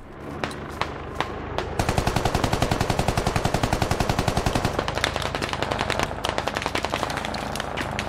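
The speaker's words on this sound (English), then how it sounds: "there's some distant targets shooting at us" Sustained automatic gunfire in the military shooter game Squad: a few scattered shots, then a long, fast, steady burst of rapid rounds that stays loud and dense to the end, with no talking.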